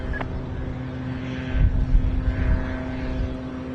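An airliner takes off at Washington Dulles International Airport, its engines a steady, fairly distant roar whose low rumble swells midway and holds to the end.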